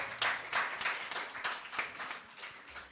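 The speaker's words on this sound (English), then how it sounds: "A huge round of applause for her" An audience at a literary conversation event applauds the guest with a burst of clapping that swells in uneven waves and gradually thins, moderately faint, with no talking.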